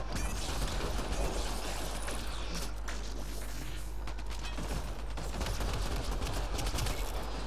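Rapid gunfire crackles through a Mass Effect Andromeda multiplayer match on an ice map, dense mechanical bursts and clatter running steadily throughout with a low constant hum beneath.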